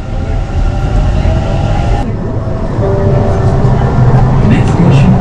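Interior of a moving Bangalore metro train with air conditioning, a loud steady rumble and hum of wheels and motors that stays constant, with a brief shift in tone partway through.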